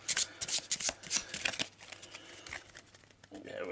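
Cards for the Arkham Horror board game being shuffled by hand, a quick run of crisp riffling bursts and slaps that tapers into softer rustling near the end.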